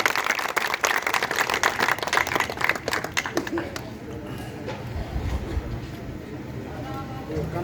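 An audience claps for a Holi song singer, a burst of dense applause for about four seconds that then fades into quieter background noise and talk.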